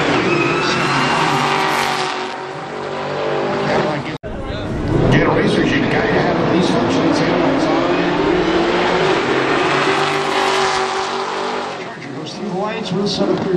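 A Corvette race car roars at a drag race, its loud engine note rising and sweeping through the gears over crowd and track noise while an announcer talks over it.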